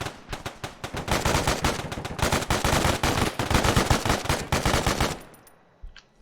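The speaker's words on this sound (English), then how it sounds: "They're already shooting me." Bursts of automatic gunfire from enemies in Arma 3, rapid loud volleys cracking for about five seconds before cutting off into near silence.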